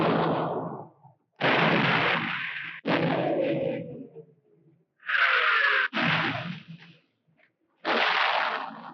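WWII artillery fire in a battle near Mount Lungo, a series of about six loud, heavy booms, each with a rumbling decay, spaced irregularly with brief silences between.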